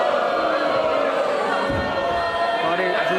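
Wrestling crowd at an SPW Champions Never Yield event reacting to the Midnight Bastards, a loud continuous roar of many voices with a swelling shout midway, filling the arena throughout.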